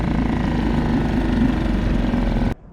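A Suzuki 2.5 outboard motor idles during break-in, a steady loud low chugging drone that continues evenly and then cuts off abruptly near the end.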